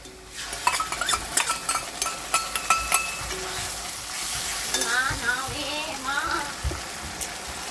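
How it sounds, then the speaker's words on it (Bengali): Spice paste frying in a pan for a katla fish dish, a steady sizzle with clustered clinks and scrapes of a utensil early on, then a louder bubbling, spitting fry. "হালকা যে মশলাটা করে রেখেছি বললাম, এটা দিয়ে দেবো"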